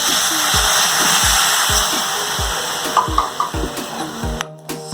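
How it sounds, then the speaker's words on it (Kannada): A spoon stirs sugar and water in a pan on a gas stove. Regular, evenly spaced scraping strokes sound over a constant background hiss, then a few lighter clinks near the end. "ಸಕ್ಕರೆನ ಚೆನ್ನಾಗಿ ಸ್ಪೂನ್ಲೆ ತಿರುಗಿಸೋಣ"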